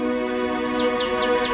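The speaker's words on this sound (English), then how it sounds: "a series of cogs, ropes, and pulleys made the bird sing when the wheel was turned" Heron of Alexandria's ancient mechanical singing bird, driven by cogs, ropes and pulleys when a wheel is turned. It gives four quick, high whistling chirps in an even rhythm over a steady sustained tonal hum.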